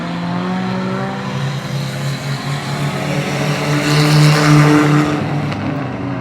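Mini stock race cars roar around Oyster Bed Speedway in a tight pack, engines droning loud and steady with rising and falling pitch as they sweep through a corner, swelling louder near the end.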